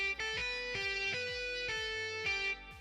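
A distorted pop punk guitar lead from Guitar Rig, played dry with no stereo widening. A short run of bright, plucked notes in a quick rhythm rings alone at moderate level, with no voices.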